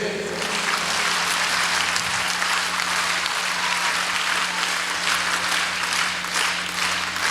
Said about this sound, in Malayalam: ഒന്ന് ഡിഫറെൻ്റ് ആയിട്ട് ഒന്ന് കൈയടിച്ചേ.